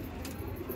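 Soft, low cooing from Madrasi pigeons, long-faced fancy birds kept by a breeder, murmurs faintly and steadily under a dull background hum.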